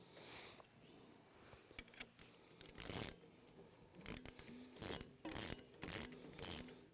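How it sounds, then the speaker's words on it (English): A nut and bolt are tightened on the mount of a Lucky Duck Ice-X floating ice eater, with quiet repeated ratcheting clicks and squeaky turning strokes in an uneven rhythm, close by and with no talking. "As you tighten it up, you'll still be able to adjust it until it's firmly fastened in place."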